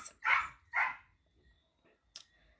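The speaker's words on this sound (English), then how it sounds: "Sorry, guys, we've got a lot of the dogs outside" Several dogs bark outdoors: two loud, full barks in quick succession, then a pause before a sharper, brief yelp, each standing alone against a quiet background.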